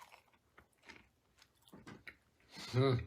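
Someone chews a crunchy, moist baked good with nuts, producing irregular close crunching and crackling bites that grow louder and denser toward the end, with a voice briefly heard.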